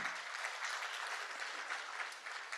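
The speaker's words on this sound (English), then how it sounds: "Please, can we clap for him?" Audience at a Lagos technical and business meeting clapping steadily for a fellow receiving an award, a dense, even round of applause throughout with no talking.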